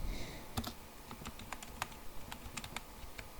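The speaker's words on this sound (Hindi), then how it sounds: "रोल नंबर टाइप करने के बाद हम रोल नंबर कंफर्मेशन टाइप करते हैं।" Fingers tapping a computer keyboard to enter a roll number on an online form, a brisk run of crisp individual keystrokes, close and clear with no voice.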